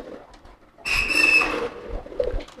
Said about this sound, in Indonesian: saya suruh keluarin semua merpati yang giring keras